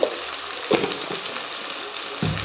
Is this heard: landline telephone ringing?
no